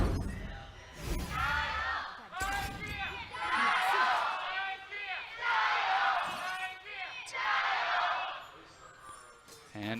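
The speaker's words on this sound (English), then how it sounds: "the IG chants filling the stadium" A packed stadium crowd at a League of Legends esports match between Invictus Gaming and Topsports Gaming chants IG in loud rhythmic waves, swelling and falling in repeated bursts.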